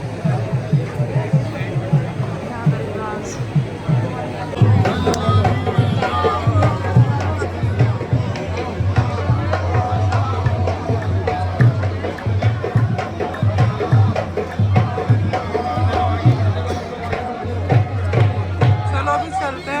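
Dense crowd of pilgrims packed around the Ajmer Sharif shrine of Khwaja Gharib Nawaz on the eve of his Chhati, a loud constant babble of many voices close around, with a nearby voice talking over it.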